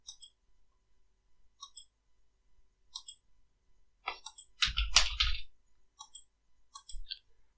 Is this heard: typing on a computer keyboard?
yes